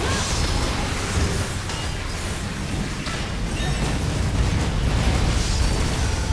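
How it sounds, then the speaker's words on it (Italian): Explosions burst in the PS5 action game Babylon's Fall, a dense, continuous barrage of booms and crackling blasts, loud and sustained without pause. "Vabbè, tutte queste esplosioni"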